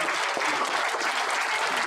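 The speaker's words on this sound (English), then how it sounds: "Can we have a big round of applause for Rami?" A crowd at an Indian Republic Day celebration gives a big round of applause, dense continuous clapping, loud and steady for the whole stretch, alone without speech.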